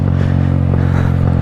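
Small Honda Grom motorcycle ridden by a young kid, its engine a steady close low drone with faint clattering throughout.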